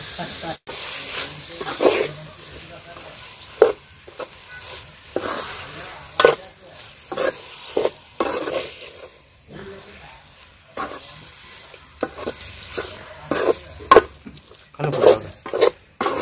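A spoon stirs village-style chicken keema in a pot, with repeated scraping strokes and bursts of sizzling in an uneven rhythm, close and fairly loud, and brief speech in between.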